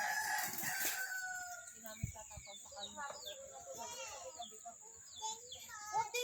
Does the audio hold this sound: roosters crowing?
yes